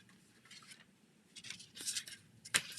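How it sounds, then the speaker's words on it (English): Scissors cut a piece of vellum paper down to size in a few quick, close snips, the last one sharpest and loudest, with a quiet room behind. "Go ahead and cut this down so that it's the same size as the linen."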